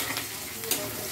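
Onions fry in a pan with a steady close sizzle, and the stirring adds a brief scrape partway through.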